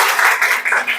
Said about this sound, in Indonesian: Oke, tepuk tangan dulu buat kita semua ya.